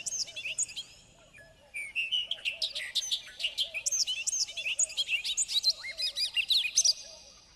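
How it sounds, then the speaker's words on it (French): A bobolink sings a rapid, bubbly, high-pitched jumble of tinkling notes that runs on continuously after a quiet start. "Tu l'as entendu, le goglu"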